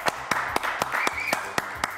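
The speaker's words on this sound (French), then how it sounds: "Je vous demande de l'applaudir très fort." A studio audience on a French television news-comedy show claps in a sparse, rhythmic way, individual sharp hand claps spaced evenly about every quarter second, fairly close and without voices.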